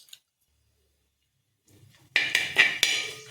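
A spoon stirs peanuts roasting with curry leaves in a metal pan, producing a few sharp, close clinks and scrapes after a near-silent pause.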